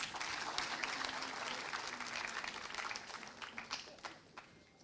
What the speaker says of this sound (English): I think we can have a bigger round of applause.